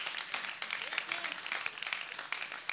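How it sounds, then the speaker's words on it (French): Audience applause at a live French-language stage show, a steady dense patter of many hands clapping at moderate distance, sustained throughout without pause. "On applaudit tous ensemble"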